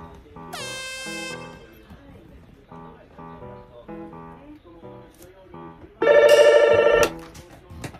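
A telephone rings at a Japanese telephone club, one loud electronic ring burst of about a second that rises over soft tinkling background music, close and with no talking over it.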